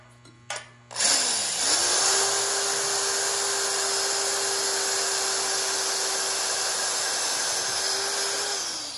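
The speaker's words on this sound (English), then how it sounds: "Now we're going to drill our 1/8-inch pilot hole on the two center punch spots we made." A drill bores a 1/8-inch pilot hole into trailer metal at a center-punched spot: a few brief knocks, then a steady high-pitched whine held for about eight seconds before tapering slightly.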